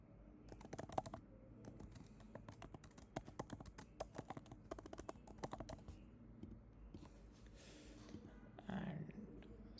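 Rapid, irregular clicks of typing on a computer keyboard come in close, quiet bursts with short pauses between them, and no voice is heard.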